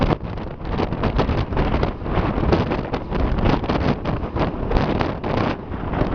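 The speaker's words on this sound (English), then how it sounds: "Boy, it's windy." Strong gusting wind buffets the microphone outdoors, a steady low rumble with surging swells throughout and no voices.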